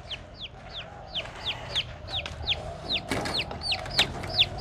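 Newly hatched chicks, fighting-cock hatchlings being let out into a small box, peep in a quick run of high, thin downward chirps, about a dozen in steady succession over a low background hum.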